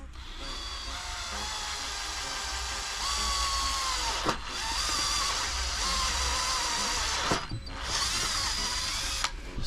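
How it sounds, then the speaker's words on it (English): A power drill bores holes in roof rails on a Mercedes-Benz Sprinter van, giving a loud, close, high whine in long sustained runs broken by brief pauses and bursts. "So my friend is drilling the holes in the roof rails."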